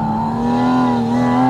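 Porsche 718 Spyder RS flat-six engine revving, a loud, close, steady tonal drone heard from the cabin, holding a sustained pitch with a slight rise and no talk over it.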